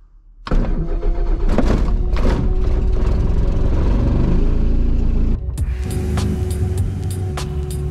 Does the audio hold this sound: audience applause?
no